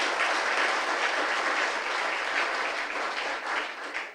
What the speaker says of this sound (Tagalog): Palakpak uli na malakas kay Lord.